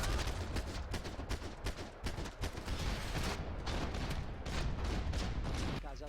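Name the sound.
gunfire in video game Max Payne 3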